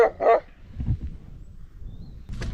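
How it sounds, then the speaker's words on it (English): Two big black dogs barking during a bike ride, two sharp barks close together at the start, then quieter rustling and low noise, and another bark near the end. "Next we have two big black dogs."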